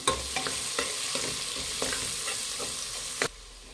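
Coriander powder and turmeric being stirred into hot oil in a pan for Kashmiri veg biryani, with a steady close sizzle and repeated scraping strokes of the spoon that end abruptly near the close.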